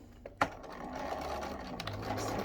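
A sewing machine stitches an apron, its steady motor whir running continuously after a sharp click at the start.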